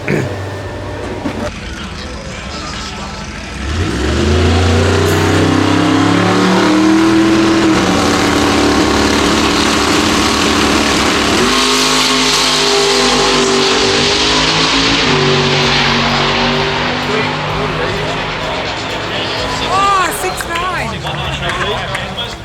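A drag race car at a Grudge Kings meet launches and accelerates hard down the strip, its loud engine revving up through the gears with a long sustained roar that gradually fades, crowd noise faintly under it.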